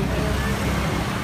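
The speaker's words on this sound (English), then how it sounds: "Check out the traffic behind me." Dense street traffic with tuk-tuks in Bangkok, a continuous loud roadway rumble of engines and vehicles with voices mixed in.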